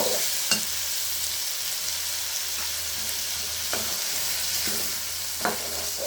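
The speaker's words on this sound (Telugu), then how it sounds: "ఇలా బాగా ఫ్రై మాదిరి కలజెప్పాలా" Tomatoes sizzle steadily in a pan while a utensil stirs them, with a few sharp scraping knocks against the metal.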